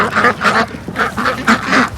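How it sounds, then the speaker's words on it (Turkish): A group of ducks being fed bread quack loudly and rapidly close by, with overlapping calls in quick bursts. "resmen vitaminle, ekmekle besliyorum bu ördekleri."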